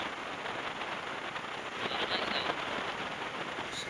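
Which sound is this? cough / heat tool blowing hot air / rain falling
rain falling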